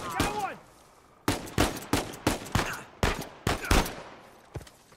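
Pistol gunfire in Uncharted 4 rings out as a rapid string of about eight sharp, loud shots with short gaps. A brief voice comes first, then the shots stand alone.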